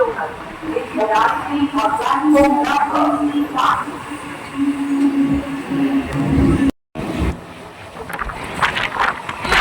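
A Sealdah to Krishnanagar local train pulls out of Belgharia station with a loud rumble and clatter and a sustained tonal whine, voices around it and a brief dropout near the end.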